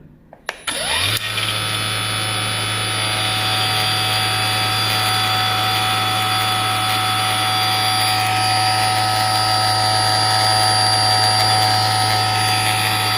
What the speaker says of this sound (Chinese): 我们再启动看一下。